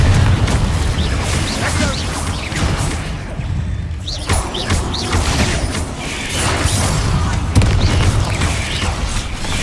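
Explosive Confringo spell blasts in the Hogwarts Legacy video game, loud booms and crashes in dense succession amid constant combat noise, with a voice calling out spells.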